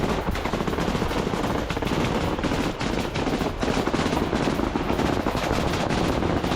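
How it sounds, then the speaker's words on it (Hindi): Dense, continuous machine-gun and rifle fire rattles without pause over a Russian-occupied front line area in Kharkiv, loud and sustained bursts overlapping. "रूसी कब्जे वाले क्षेत्र पर अंधाधुंध फायरिंग।"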